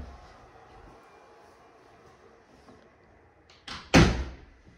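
A closet door in a new luxury show home opens with a sudden loud thump and rattle after a stretch of quiet room tone, followed by a brief fading creak.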